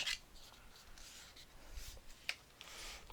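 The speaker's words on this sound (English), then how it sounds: "I'm just going to burnish it down here" Folded paper is burnished down onto a scrapbook album page by hand, making soft, quiet rubbing strokes with a few brief scratchy swipes, close up and without talk.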